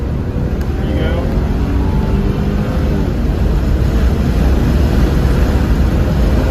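A Lexus GS300 with an automatic transmission accelerates on a race track, heard from inside the car. The engine note climbs steadily under a loud, constant road and wind roar.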